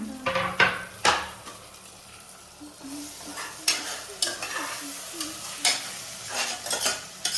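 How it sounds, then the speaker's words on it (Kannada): Food being stirred and mixed in a sizzling pan, with repeated spoon scrapes and clinks against the metal over a steady fry, loud strokes recurring at irregular intervals. "ಇವಾಗ ಮಿಕ್ಸ್ ಮಾಡ್ಕೊತೀನಿ ಫಸ್ಟ್ ಮಿಕ್ಸ್ ಮಾಡಿಬಿಡ್ತೀಯಾ"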